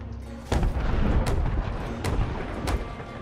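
Ship cannons firing in the Sea of Thieves video game, four heavy booming shots spaced about half a second to a second apart, each loud and sharp with a rumbling tail, no voices.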